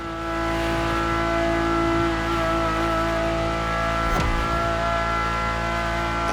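Ferrari supercar engine in The Crew Motorfest, heard from the cockpit: a loud, steady harmonic drone held throughout, with a brief sharp gearshift-like sweep near the middle before the note resumes.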